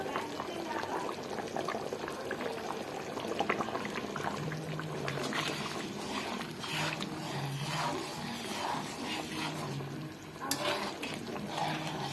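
Bengali-style mutton curry simmering in a home kitchen pot, a steady bubbling and sizzling that runs throughout at moderate level, with occasional clinks and brief voices in the background.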